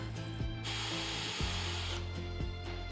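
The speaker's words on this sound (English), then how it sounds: "Now I got a 1/4 inch Forstner bit, and I'm gonna go ahead and put a hole right here" A 1/4 inch Forstner bit drills into wood for a golden shiner glide bait fishing lure, making a steady whirring, grinding bore with a few brief knocks, close and alone.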